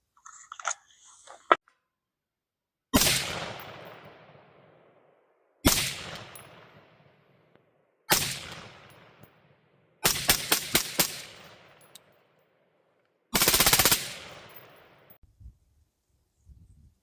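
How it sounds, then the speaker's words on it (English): Five sharp suppressed rifle shots are fired through a Viking Forge 556 suppressor. Four come singly with pauses between them, and one is a quick multi-round burst, each followed by a short decaying tail. "check out the Viking Forge 556 suppressor and see what kind of flash suppression it has or doesn't have"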